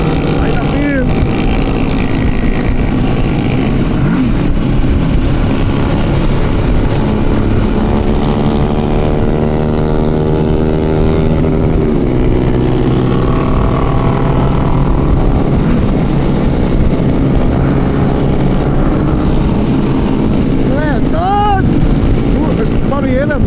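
A large group ride of more than 400 motorcycles from Goiânia to Itauçu, exhausts droning loudly and continuously with shifting engine harmonics, wind buffeting the microphone and voices talking over the din.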